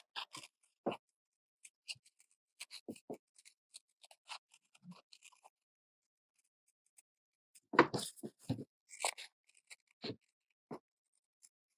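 Scissors snip through fabric to cut out small eye shapes for a sewn toy caterpillar, giving quiet, scattered cuts in short bursts with pauses, a dense cluster of snips toward the end; no talking.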